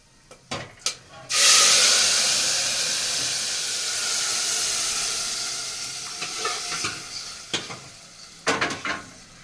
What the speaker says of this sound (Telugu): ఆవిరి వచ్చేసింది